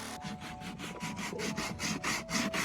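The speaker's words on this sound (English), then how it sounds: "We're using 40 grit because what it is, we're rubbing down the placky" Rapid back-and-forth rasping of 40-grit sandpaper by hand on body filler on a Toyota FJ40 Land Cruiser, a steady scratchy rhythm of short strokes, close and fairly quiet.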